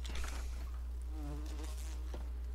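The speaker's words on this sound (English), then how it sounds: "Man, these bees hate me." Insects buzzing in the survival video game Enshrouded: a steady, dense drone of bees swarming nearby, holding without break, with a few faint wavering tones rising over it.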